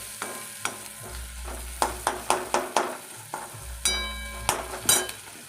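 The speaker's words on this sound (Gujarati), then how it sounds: "તો બધું સડી જાય ત્યાં સુધી હલાવ્યા કરવાનું" Maggi noodles stirred in a pan on the stove, the spoon scraping and clinking in a series of sharp taps against a low steady sizzle, with a faster burst of stirring near the end.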